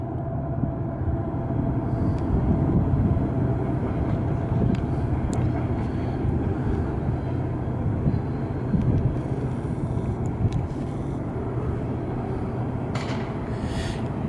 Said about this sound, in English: Oh, it's a coal train.